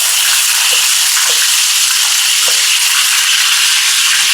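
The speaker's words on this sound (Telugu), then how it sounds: "ఇలా కొంచెం షేడ్ మారే వరకు కొంచెం ఫ్రై చేసుకోవాలి" Lemons fry in Dhanvantara oil for an Ayurvedic patra pinda swedanam preparation, giving a loud, continuous close-up sizzle with occasional faint pops and stirring sounds.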